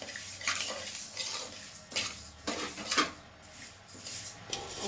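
Flax seeds roasting in a pan for a powder, stirred with a spatula: repeated scraping and clinking strokes against the metal with light crackle beneath, close and steady, no voices.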